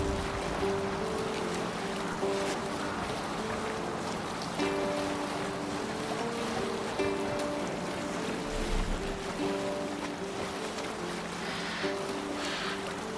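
A sailing ship moving over the waves in Assassin's Creed Valhalla: a continuous wash of water and wind around the hull, with steady tonal creaks and hums running beneath it and no talking.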